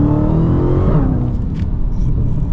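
A 2016 Dodge Challenger Hellcat engine revs at partial throttle, giving a loud, steady close-up roar that climbs in pitch for about a second, then settles into a deep rumbling drone.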